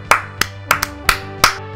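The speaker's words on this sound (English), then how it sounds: "I applaud them." A single person clapping hands slowly, six crisp claps at uneven intervals, close and loud with no other sound.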